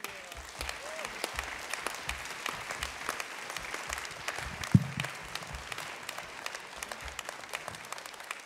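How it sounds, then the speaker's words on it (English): An audience gives steady, moderately loud applause for a singer at a U.S. Army Blues Veterans Day concert, a dense wash of clapping that continues evenly throughout with a few sharper claps standing out. "Let's give a round of applause for Sergeant Major Crystal Reams."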